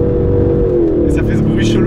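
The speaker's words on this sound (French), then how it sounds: "là je vais passer une vitesse avec le pied au plancher comme ils disent" A 2019 Aston Martin Vantage AMR with a manual gearbox, its engine droning loudly at full throttle as the pitch drops through a flat-foot upshift, heard from inside the car with a voice briefly over it.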